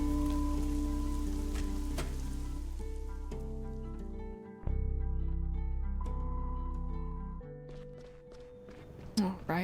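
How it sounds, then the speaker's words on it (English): Rain patters steadily in the video game Fall of Porcupine, a soft continuous hiss beneath tonal background music and characters' spoken dialogue. "enjoy the rain"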